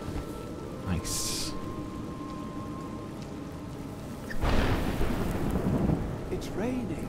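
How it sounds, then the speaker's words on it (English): Rain falling with a rumble of thunder in the video game A Juggler's Tale, a steady wash that swells into a louder burst of storm noise partway through, with brief talk near the end. "It's raining."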